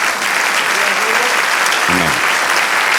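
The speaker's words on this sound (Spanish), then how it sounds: "Denle un aplauso al Señor." A church congregation bursts into loud, steady applause, dense clapping filling the whole moment, with a brief voice rising faintly over it.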